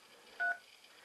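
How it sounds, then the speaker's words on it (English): A single short touch-tone beep from a phone keypad being dialed, clean and brief, alone against faint background hiss. "Hopefully I dialed right."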